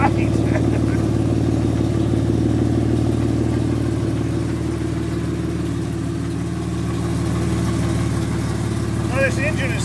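A high-compression classic car engine idles steadily at close range, a continuous low mechanical drone holding an even level for the whole stretch, with no talking over it.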